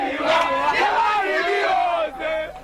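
A crowd yells and shouts around a boys' street boxing fight in Accra, Ghana, with loud, dense massed voices rising in excited cries throughout.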